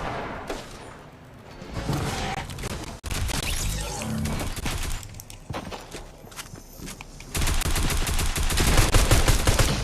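Gunfire in the Fortnite video game, with bursts of rapid shots over running footsteps. The firing grows denser and louder toward the end, and the whole mix stays fairly busy.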